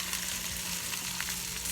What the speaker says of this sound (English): Oh, you hear it sizzling.